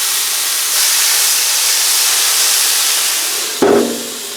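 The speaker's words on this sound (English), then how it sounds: "put some water on it. Shut the lid real quick. We're going to let her steam out." Water hisses and steams on a hot Blackstone griddle under a shut lid, a broad continuous sizzle that swells shortly after the start and holds, then a brief clatter near the end before it eases off.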